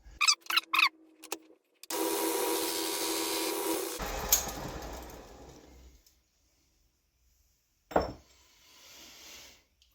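A cutter machining a chamfer on the cylinder base of a Stihl MS461 chainsaw, with a few tapping knocks, then a hissing cutting sound for about four seconds that fades out, and a brief scrape near the end.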